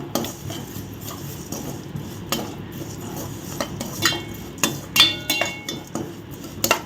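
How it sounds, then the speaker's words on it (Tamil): Vermicelli roasting in ghee is stirred in a metal pan, irregular scraping and clinking strokes of a spoon against the pan, close and moderately loud over a faint background hiss. "இப்போ நம்ம சேமியா வந்து இந்த நெய்யில் போட்டு நல்லா வறுத்துப்போம்"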